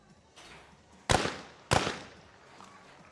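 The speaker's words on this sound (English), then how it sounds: "Great shooting from Tomato." Shotguns fire in the men's skeet final at the ISSF World Cup Final in New Delhi. Two sharp, loud blasts come about half a second apart, each fading into a short echo, after a fainter earlier pop.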